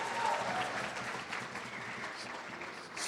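An audience at the Lawton Chiles Gala, a Democratic fundraiser dinner and silent auction, applauds in a broad, steady wash of clapping that holds at even loudness throughout and fades slightly at the end.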